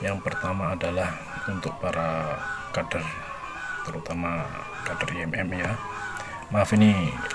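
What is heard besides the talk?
neighbour's geese honking in the background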